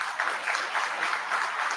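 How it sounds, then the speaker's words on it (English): Applause at a public board meeting, a soft, fairly distant patter of clapping from a modest crowd that carries evenly throughout, with no voices over it. "So again, I'll ask for a round of applause for the work that's been done."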